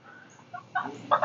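Americana hens and a rooster cluck in a few short bursts, close by, with a faint higher call early on and quiet background between.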